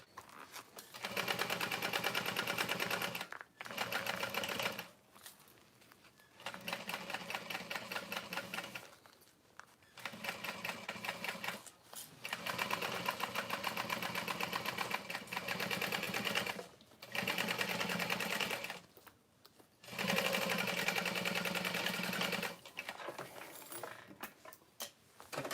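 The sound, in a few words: sewing machine back stitching a tote bag panel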